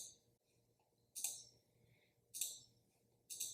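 Sharp computer mouse clicks while changing a chat setting in a program's main settings window, three crisp clicks spaced about a second apart over a faint low hum, close and clear.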